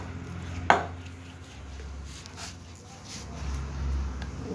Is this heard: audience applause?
no